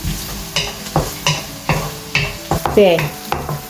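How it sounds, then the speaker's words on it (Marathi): Chopped onions frying in a pan for egg fried rice, with a close sizzle and a spatula scraping in steady strokes roughly every half second. "तेजे उपरांत घालया आमचे चॉप्ड ऑनियन्स."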